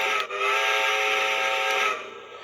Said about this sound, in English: we've got our user operated sounds, our whistle